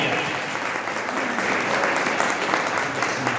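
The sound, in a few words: audience applause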